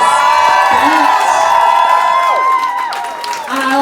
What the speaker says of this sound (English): that deserves a fucking round of applause